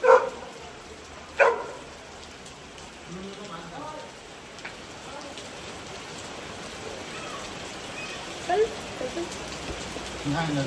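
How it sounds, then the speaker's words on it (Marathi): Steady rain hisses throughout, with a few brief sharp knocks and faint voices in the background. "पावसाला सुरुवात झाली"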